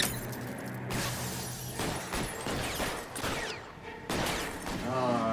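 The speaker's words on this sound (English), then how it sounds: "We gotta start shooting." Gunshots in the video game L.A. Noire: sharp cracks and shattering bursts scattered across a busy mix, with a voice talking over parts of it and some tonal game sounds near the end.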